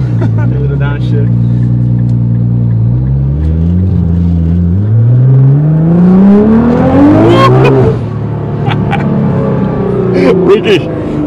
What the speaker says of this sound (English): Them turbos, man, they loud. A little bit. A little downshift.